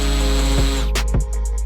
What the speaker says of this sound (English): I'm going to use the little drill just to make pilot holes.